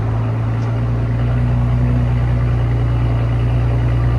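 A Porsche Cayenne S with a 2.9L twin-turbo V6 and straight-pipe exhaust idles close by, a steady deep rumble with a low droning hum that stays even throughout.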